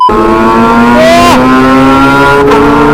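A loud motorcycle exhaust revs up close, its engine note climbing and holding steady with a harsh, droning tone.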